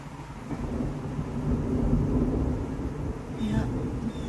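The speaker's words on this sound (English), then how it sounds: "Just lightened, so I imagine it'll thunder here in a second." Thunder rolling through a rainstorm on a horse farm, a deep, sustained low rumble that swells and fades over several seconds beneath steady rain hiss.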